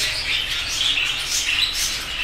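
Budgerigars of many colours squawk and chirp in a breeder's aviary, a dense, steady chatter of high calls, with the occasional soft flutter of wings, lasting throughout.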